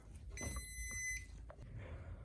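A single sustained electronic beep sounds for just under a second as the batteries of a scissor lift cut off, fairly close, followed by faint clicks and a quiet hum.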